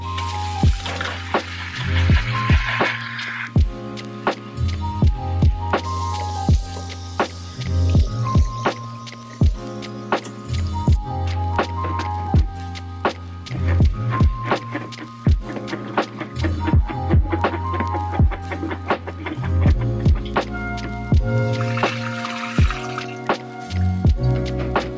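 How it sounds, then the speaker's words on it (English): Chopped lettuce is washed in a salad spinner insert under running water, with steady splashing, dripping and wet squishing sounds close by, continuing throughout without speech. "I have it in this little insert that goes into my salad spinner,"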